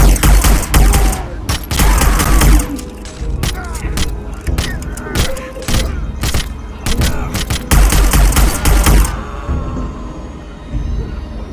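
Rapid bursts of game gunfire from Hitman: Requiem, sharp loud shots fired in quick clusters with short pauses between volleys, alongside faint mechanical clicks and a brief quieter stretch near the end.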